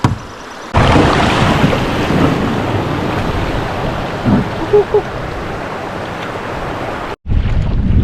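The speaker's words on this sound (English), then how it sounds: "it's a choppy day on this lake" Wind and choppy waves on a lake in Algonquin Park, a loud continuous rushing roar with buffeting wind noise on the microphone and faint splashes.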